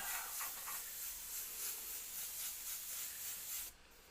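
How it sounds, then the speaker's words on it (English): Airbrush spraying paint in a steady, soft airy hiss while shading a Dirk the Daring Dragon's Lair piece, continuous for several seconds before cutting off near the end, with no talking. "And then freehand, and you'll have kind of a mix of nice soft airbrush shading."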